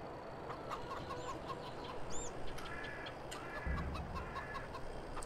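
Chickens cluck quietly in Farming Simulator 22, scattered short calls over a steady low ambient background, faint and without talking.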